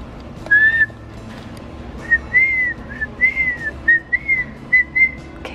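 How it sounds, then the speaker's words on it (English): A person whistles a series of short, bright rising-and-falling notes inside a Sam's Club store during hide and seek, one longer phrase then several quick chirps, close and clear over faint store ambience. "If we hear them, should we whistle?"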